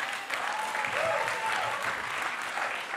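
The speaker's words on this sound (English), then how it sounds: "Give him a round of applause." An audience at a live talk applauds in a dense, steady burst of clapping for the whole stretch, moderately loud, with no talk on top.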